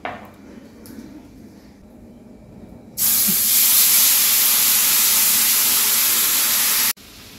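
Ground paste of dried chillies and melon seeds hits a hot pan already holding red chilli powder, salt and turmeric, bursting into a loud, steady sizzle that hisses on for about four seconds before cutting off abruptly.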